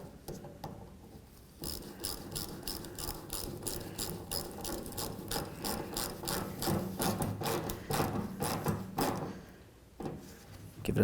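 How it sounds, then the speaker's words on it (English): A ratchet tightens a hose clamp on a 1988-2000 Chevy C/K1500 fuel tank, a quiet, rapid series of clicking pawl strokes in uneven bursts under faint shop noise, close and fairly soft. "Put on your clamp, tighten it up."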